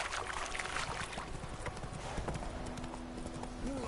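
The horse Roach galloping in The Witcher 3, a fast, steady clip-clop of hooves on ground, close and loud, with a faint tonal whinny-like sound near the end.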